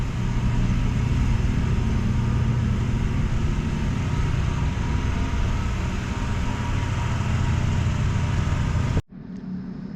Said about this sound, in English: we got the air compressor running and the heater running in here